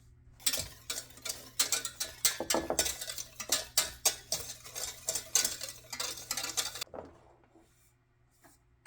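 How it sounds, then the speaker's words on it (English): A whisk rattles quickly against a bowl, mixing dry sugar, cornstarch, nutmeg and salt for eggnog pudding, a close run of rapid clinking strokes lasting several seconds before it stops. "Whisk it all together."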